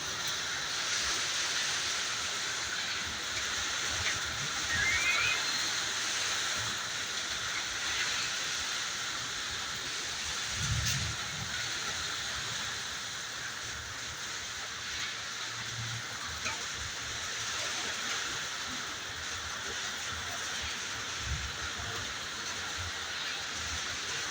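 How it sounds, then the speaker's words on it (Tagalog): Steady heavy rain hisses continuously, with a few low rumbles of thunder rolling in the distance. "medyo lumakas na naman po yung kulog at ang um, ulan"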